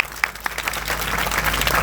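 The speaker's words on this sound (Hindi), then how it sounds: "जोरदार तालियां बजा दो अपने लिए" A crowd of students at a protest at Jantar Mantar claps enthusiastically, a few separate claps quickly swelling into dense, sustained applause close by.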